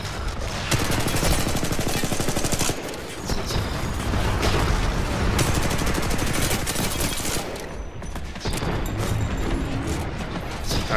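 Gunfire in the video game Titanfall 2, from a PS4 pre-alpha tech test match: loud, sustained automatic fire in rapid bursts with booming hits, a few brief pauses, and continuing almost without a break.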